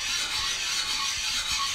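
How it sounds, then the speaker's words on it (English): Steady, close rasping as a stone is rubbed back and forth over car engine gasket surfaces, with no pauses and no voices. "sanding down my surfaces for my gaskets, or grinding down with stoning"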